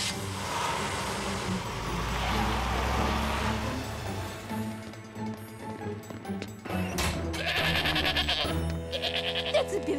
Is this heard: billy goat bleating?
yes